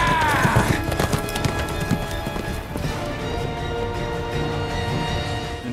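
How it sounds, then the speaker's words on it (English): Horse hooves in the video game Nioh clop rapidly and rhythmically in a gallop at Sekigahara, up close over game music and a drawn-out whinny near the start. "Atop our favorite horsey."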